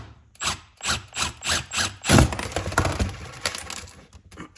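Impact gun spinning off a 17mm coilover stop nut on a car's front suspension: a series of short rattling bursts, then a longer hammering run with metallic ratcheting, close and loud.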